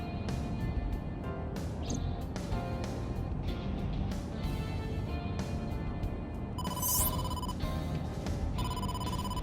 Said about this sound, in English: Date, incoming call from the boss.